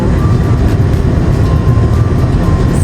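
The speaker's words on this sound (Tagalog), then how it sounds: "Ang lakas ng hangin." Strong wind roars outdoors during a Canadian winter, a dense, steady low rumble with constant gusting texture, loud and close, with no voices.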